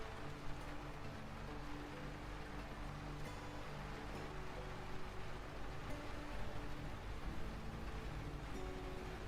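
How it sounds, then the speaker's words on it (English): Steady, soft rainfall in the video game Lightyear Frontier, a continuous wash of drops heard alone at low level, with no talk. "That rain is beautiful."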